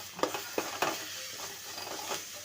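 Masala mixture being stirred in a pan for homemade puffs, a few sharp scraping strokes near the start over a soft, steady sizzle, then lighter irregular clicks of the spoon.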